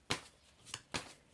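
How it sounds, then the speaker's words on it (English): Tarot deck being shuffled in the hands: three quick riffling bursts spaced across a second and a half, close and fairly quiet. "as I shuffle the cards"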